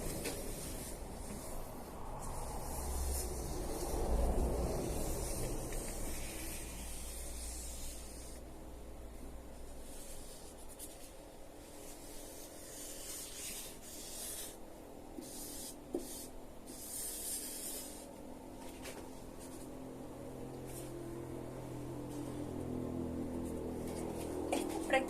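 Pen or pencil drawing the base of a brain on paper, a steady soft scratching and rubbing that runs through most of the stretch, fairly close and quiet, with no talking.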